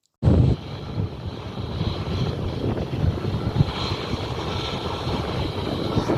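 Jet airliner engines roar steadily at London Luton Airport, where a Boeing 737 MAX sits parked beside an EasyJet plane; a loud, continuous broadband rumble with wind buffeting the microphone, no talk.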